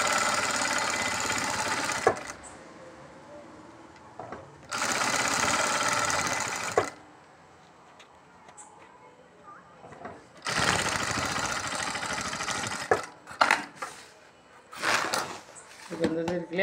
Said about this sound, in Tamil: கோரை தைக்கும்போது என்றைக்குமே நம்ம கொஞ்சம் தள்ளி கொடுக்க வேண்டியதாக இருக்கும்